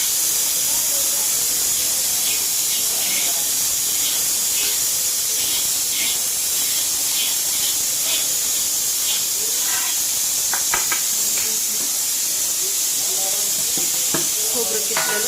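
Grated coconut roasting in a pan gives a steady, loud hiss throughout, with faint scraping and stirring ticks on top and a voice talking in the background.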